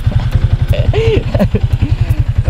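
A Yamaha Sniper 155 motorcycle idles up close with a steady, even engine pulse throughout, while someone talks briefly over it.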